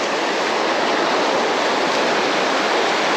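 Rough water rushing down a stream, a loud, steady, close roar of churning flow that holds constant throughout with no voices.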